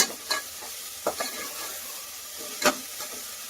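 Tomatoes and onion sauté in a pan with a little salt, giving a soft, steady sizzle broken by several sharp scrapes of stirring.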